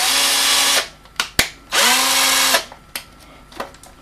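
A power drill runs in two long bursts, whining loudly with a steady motor pitch, separated and followed by short clicks and brief trigger blips.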